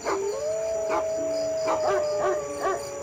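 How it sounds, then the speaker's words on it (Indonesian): A dog in an Indonesian horror cartoon howls with a long, drawn-out wavering tone while loud barks repeat over it, set against a constant eerie background drone. "mereka mendengar suara gonggongan anjing yang sangat keras"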